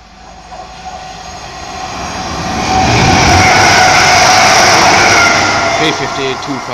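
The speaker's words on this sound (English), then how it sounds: "Passing through will be a London Midland service from Birmingham New Street to Liverpool Lime Street." A London Midland service passing through a station near Crewe rumbles in from a distance, swelling to a loud, close roar of wheels and carriages mid-clip, then easing slightly as it carries on.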